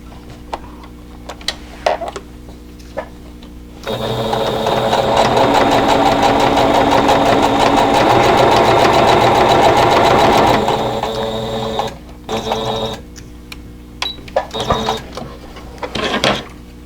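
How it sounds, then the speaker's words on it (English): A sewing machine runs a 1/4 inch seam along a table runner border in one loud continuous whirring burst of about eight seconds, close up, with quieter handling clicks before and after. "I'll stitch all this down with 1/4 inch seam allowance"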